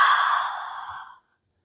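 A single long, breathy exhale during a Pilates upper ab curl on a mat, close and clear, fading steadily over about a second before silence.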